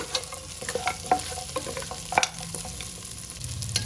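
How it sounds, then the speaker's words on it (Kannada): Lamb trotters frying in hot oil, a continuous crackling sizzle with occasional soft stirring knocks and spatters, close and moderate in level. "ಇಲ್ಲಿ ಕಾಲು ಕೂಡ ಎಣ್ಣೆ ಚೆನ್ನಾಗಿ ಫ್ರೈ ಆಗಿದೆ"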